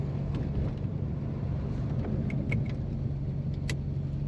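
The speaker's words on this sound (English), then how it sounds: "Today we're driving a 1954 Chevrolet 210." A 1954 Chevrolet 210 two-door rumbles along while being driven, a steady low engine drone with road noise throughout, a few faint light rattles on top, and nobody talking.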